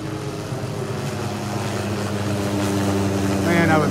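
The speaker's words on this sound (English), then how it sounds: "Comes the spray helicopter right up overhead, right up over the top of us here." A spray helicopter passes right overhead above a beach in North Naples, Florida, its steady engine and rotor drone growing gradually louder and closer over a few seconds.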